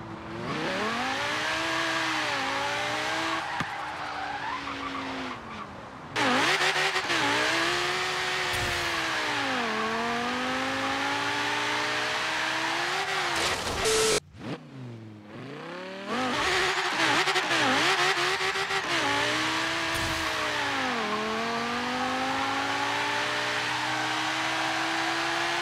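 Custom Audi R8 dragster in Forza Horizon 3, modded to about 9000 horsepower, its engine screaming and rising through repeated revving gear pulls, loud and continuous with a brief cut near the middle, with no talking.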